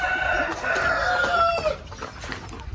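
Chickens on a heritage chicken breeding farm, with a rooster crowing in a long, loud, drawn-out call over steady clucking from nearby hens, then softer scattered clucks.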